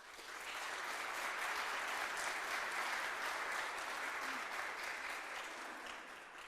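Sustained audience applause at a 2022 teacher awards ceremony, a dense clapping crowd that swells in, holds steady for several seconds and tapers slightly at the end, with no speech over it.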